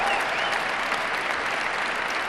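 Broad, steady audience clapping fills the whole stretch, a dense even wash of many hands from a crowd, heard alone without talk.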